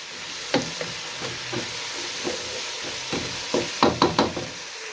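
Potatoes and fenugreek greens fry with spices in a pan, a steady sizzle broken by a run of clacking knocks from stirring, with no talk.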